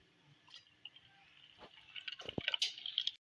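A khoya date milkshake is poured into a glass, heard as a faint thick liquid trickle and dripping that builds toward the end with a few soft splashes, quiet and close, without talk.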